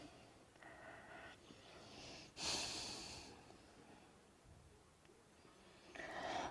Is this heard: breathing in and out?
yes